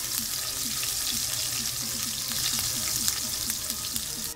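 Chopped green chillies sizzle steadily in hot oil with whole garam masala over a slow flame, a continuous close frying hiss with small crackling pops throughout and no talk.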